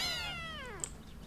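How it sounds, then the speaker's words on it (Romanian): A lynx cub meows once in the video game Paws, a single high, drawn-out mewing call that falls in pitch, close and fairly faint, with no talk. "Pot să fac și eu miau."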